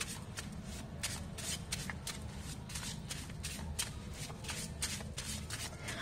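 Tarot cards being shuffled, a steady run of soft riffling, flapping bursts repeating in quick rhythm, quiet and close, with no talk.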